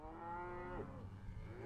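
Ranch cattle on a road in grizzly bear country moo loudly and close, one long drawn-out low call filling the short moment with no talk.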